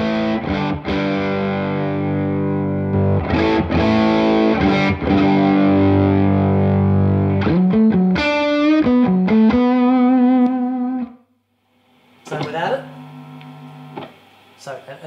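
Electric guitar on the bridge pickup played through a graphic EQ pedal with 800 Hz slightly boosted and 1.6 kHz cut, sustained distorted chords and then a run of single notes, ending in a brief pause and a few more notes.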